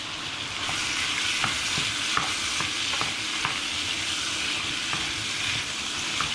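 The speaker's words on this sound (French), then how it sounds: "je vais remuer doucement pour bien faire cuire mes morceaux de canard" Duck pieces fry in a pan with red peppers and smoked pork belly, giving a steady, loud broadband sizzle throughout, punctuated by irregular light clicks and scrapes of gentle stirring; no voices.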